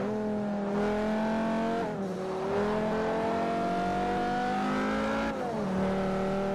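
A car engine in a Forza Motorsport 4 wagon race accelerates hard and steadily, its pitch climbing and dropping at two quick gear changes, loud and close with no talking.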